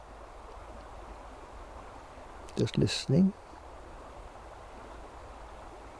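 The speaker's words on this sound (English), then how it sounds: "Perhaps you can hear it, the river gurgling over some rapids just to my right." A river gurgles over rapids close by in an outdoor setting, a steady, soft, even rush that runs throughout, with a brief spoken phrase over it in the middle.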